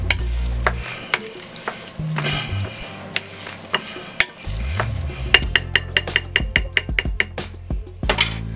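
Hands work a meatloaf mixture in a bowl, close and wet, with soft squelches that turn into a quick run of rhythmic slapping pats.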